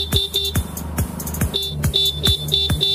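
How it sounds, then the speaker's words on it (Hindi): A vehicle horn honks repeatedly in quick, sharp bursts, loud and close, with a steady tonal buzz beneath and traffic noise filling the gaps. "हॉर्न ना बजाओ, नहीं हॉर्न निकाल के घुसेड़ देंगे।"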